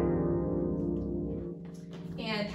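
A lever harp played solo, its plucked strings ringing with sustained harmonic tones that fade slightly midway before a brighter flourish near the end.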